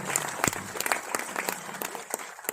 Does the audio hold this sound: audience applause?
yes